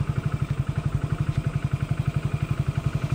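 Motorcycle engine thumping steadily in a fast, even rhythm while riding along, close and fairly quiet, with no talk.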